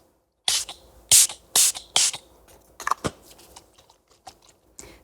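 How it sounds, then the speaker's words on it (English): Several short bursts of fine makeup setting spray hiss in quick succession, each a brief whoosh, followed by softer scattered taps and rustles. "And now for setting spray, and I am ready for the day ahead."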